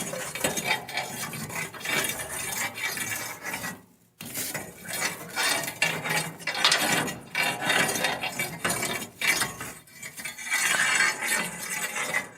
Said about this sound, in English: Scrape the ashes up here.